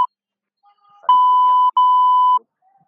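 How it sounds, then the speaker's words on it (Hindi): Censor bleeps cover a recorded argument: a brief blip, then two long steady electronic tones, each about half a second to a second, separated by a tiny gap. A faint muffled voice sits underneath. "थोड़ी देर में अभी आप एक ऑडियो सुनेंगे जिसमें कि बहुत सारे बीप्स हैं"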